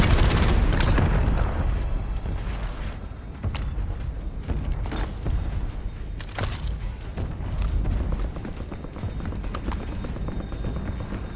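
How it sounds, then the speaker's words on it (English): Artillery explosions in a video game fire mission make a dense, continuous barrage of heavy booms and rumbling impacts that roll one into the next, loud throughout. "Murado requesting LDBR fire mission"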